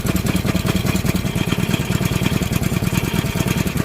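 A small pull-start motor idles steadily right after starting, a loud, close, even chugging pulse with no talk over it.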